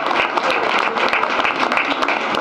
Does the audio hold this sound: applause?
yes